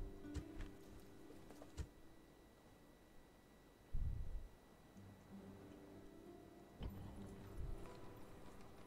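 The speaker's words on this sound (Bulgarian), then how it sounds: "Конницата" Cavalry hooves in the strategy game Rome: Total War, a few quiet, scattered clip-clop thuds over faint game ambience, with one heavier hoof strike in the middle.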